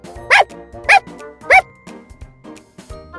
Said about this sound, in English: bouncy puppies, all playing and jumping and rolling and yapping